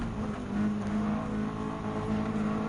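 Race car engines in Gran Turismo 7 during a Mazda Roadster race, a steady, loud droning hum with a sustained tonal whine that holds through the whole stretch, no talk.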